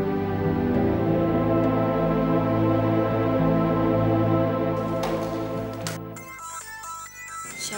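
A phone rings with an incoming call, a steady melodic ringtone playing loud and close for several seconds before cutting off into brief clattering noise.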